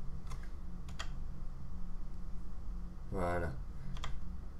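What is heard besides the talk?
keys pressed on SteelSeries Apex M800 keyboard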